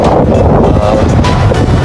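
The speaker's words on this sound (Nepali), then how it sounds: "एकदमै चिसो भइरहेछ चिसो हावा लागिरहेछ" Strong cold wind at sea roars and buffets constantly on the upper deck 11 of a ship, a loud, unbroken rushing close to the microphone.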